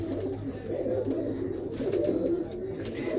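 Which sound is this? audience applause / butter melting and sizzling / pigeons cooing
pigeons cooing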